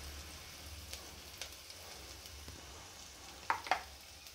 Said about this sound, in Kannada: ಇದನ್ನು ಸಹ ಚೆನ್ನಾಗಿ ಫ್ರೈ ಮಾಡಬೇಕು